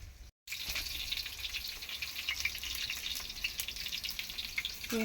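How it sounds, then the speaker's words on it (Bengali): Potatoes frying in a home kitchen pan, a constant hissing sizzle with faint crackles that starts after a brief silence and holds steady at moderate distance, no voices over it. "আলু ভাজতেছে"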